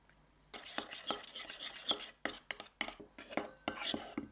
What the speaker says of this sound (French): on va mélanger donc une cuillère à soupe de miso avec 2 cuillères à soupe de sauce soja